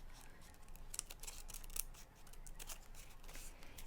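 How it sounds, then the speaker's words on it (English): Small detail scissors snip into folded crepe paper to fringe it for a paper peony, making a few faint, irregular close-up cuts against a quiet room hiss. "I'll take my small detail scissors, and I love using these scissors for fringing"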